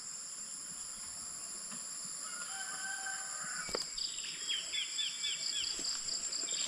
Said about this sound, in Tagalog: May ibon din doon.